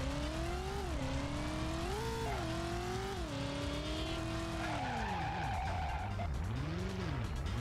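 A racing car engine in the PS1 video game Driver: You Are the Wheelman revs and whines continuously, pitch sweeping up and down through gear changes, with tires screeching near the end.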